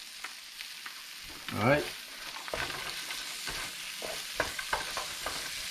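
Peas sizzle and crackle in a hot wok for fried rice, with a sharp burst of frying early on and intermittent tossing clatter throughout; a voice speaks briefly.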